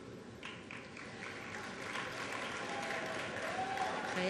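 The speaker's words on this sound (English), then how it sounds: "Should I ask them to hold their applause?" Audience applause at a 2010 Cheltenham High School graduation as diplomas are presented, a moderate clapping wash that swells gradually, with faint voices mixed in.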